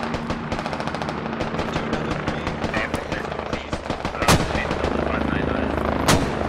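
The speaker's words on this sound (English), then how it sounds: "Mortars are coming down." Mortar rounds land in the SquadOps video game as loud, sharp explosive blasts at around 4.3 and 6.1 seconds, set against a dense bed of continuous machine-gun and small-arms fire.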